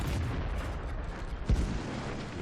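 Gunfire striking a T32 tank in World of Tanks on the Cliff map, heard inside a constant low engine rumble, with one dull thudding impact standing out briefly near the middle.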